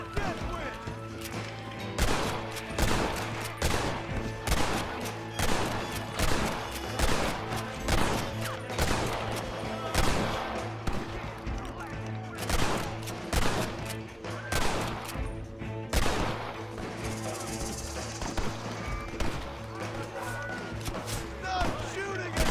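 Repeated gunshots ring out in a Red Dead Redemption shootout, sharp loud cracks arriving in irregular bursts over a steady musical drone, with occasional shouted voices mixed in.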